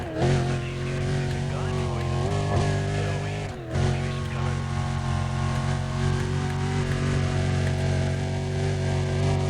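A Ford GT's engine revs and drones steadily in the racing game Need for Speed: Undercover, a loud, sustained tone that rises and falls in pitch with one short dip partway through.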